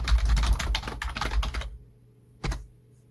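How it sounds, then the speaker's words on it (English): Quick typing on a computer keyboard, a flurry of close, crisp key clicks for over a second, then a pause and one final louder key press. "I'll type R2 the Barbarian."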